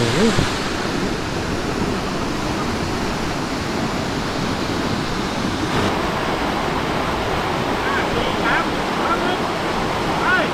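A powerful, continuous roar of a cascading jungle waterfall in Bueng Kan, Thailand fills the scene, loud and close, with faint distant voices beneath it.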